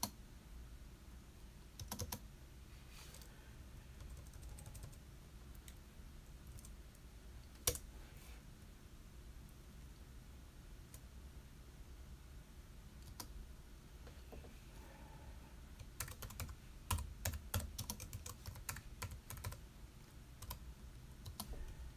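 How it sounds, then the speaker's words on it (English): Comment being typed on a computer keyboard: sparse, faint key clicks over a low steady hum, growing into a quicker cluster of keystrokes toward the end, with no talking. "Just typing up a little pinned comment"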